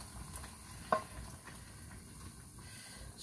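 Sautéed onion and ginger are poured onto pampano fish paksiw and sizzle faintly and steadily, with one sharp clink of a pan or utensil near the start.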